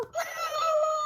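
A woman imitates a cat's meow with her voice, one drawn-out, close, wavering tone lasting about a second.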